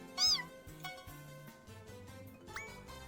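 A cat meows in the video game Disgaea 4, a few short, clear mews over soft game music.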